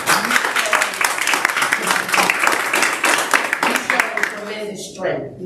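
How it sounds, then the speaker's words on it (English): Audience applause breaks out in a room at a United Nations Day of Peace event, a dense wash of clapping with voices and cheers mixed in, sustained for several seconds before it tapers off near the end. "I think everyone in this room should applaud you."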